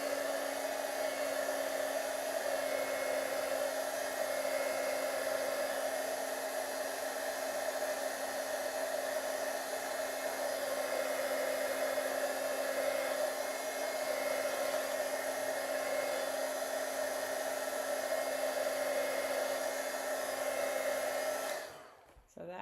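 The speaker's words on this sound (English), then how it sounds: "So I'm going to put this down and do some more drying on this." A hair dryer blows a steady, continuous drone as it dries layers of paint on a painting, close and unbroken for about twenty seconds before cutting off abruptly at the end.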